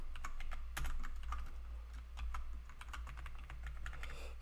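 Steady typing on a computer keyboard while writing a jQuery script, with quick irregular clicks and taps close up and no talk.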